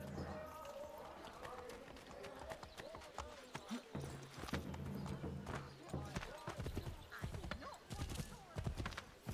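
Horse galloping in the video game Assassin's Creed 3, with rapid, uneven hoofbeats close up and mixed with game crowd noise. Someone talks over parts of it.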